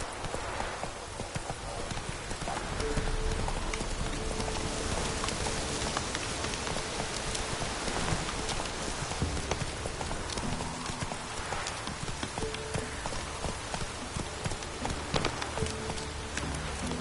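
Roach, the horse in The Witcher 3: Wild Hunt, galloping in a steady fast hoofbeat rhythm under a constant rain-like wash of game ambience, close and continuous throughout.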